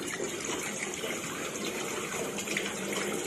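Water runs steadily from a tap while a duck is washed before cutting. The gushing is continuous and close, with no talk over it.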